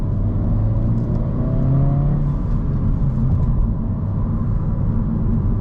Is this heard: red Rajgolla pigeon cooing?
no